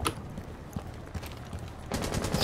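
Rapid gunfire from Thatcher's shotgun in the video game Rainbow Six Siege, with quick blasts landing in close succession before a louder, denser burst near the end.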